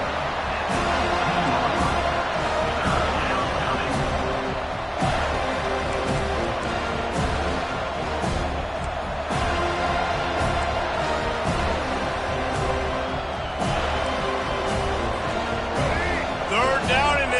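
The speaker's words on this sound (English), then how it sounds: "Third down, and this crowd is tearing the lid off this place." A football stadium crowd roars loudly and steadily on a third down, a dense wall of cheering that never lets up while a commentator talks over it.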